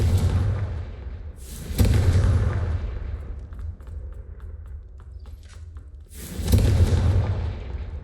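Confringo spell blasts in the video game Hogwarts Legacy land as two heavy booming bursts roughly five seconds apart, each rumbling out over quieter game ambience, with no speech.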